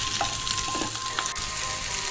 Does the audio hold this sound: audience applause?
no